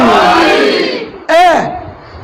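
A large Muslim religious gathering answers a preacher's call with a loud collective shout of the slogan Haidari, a sustained chanted roar of many voices rising after the preacher's own raised voice.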